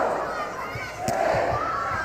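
A volleyball crowd roars on Penn State's home court, a loud, steady cheering swell with scattered thumps and a sharp crack, while an announcer talks over it.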